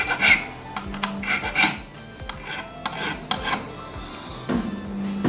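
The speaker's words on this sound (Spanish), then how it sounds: "Vamos a limar más el segundo." A metal file rasps against a key blank being cut by impression for a Yale padlock: close, loud strokes in irregular bursts with short pauses, and a steadier grinding stretch near the end.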